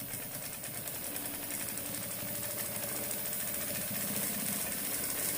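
Sewing machine stitching a patchwork table runner in Rail Fence blocks, a steady, fairly quiet mechanical whir that runs unbroken throughout with no talk.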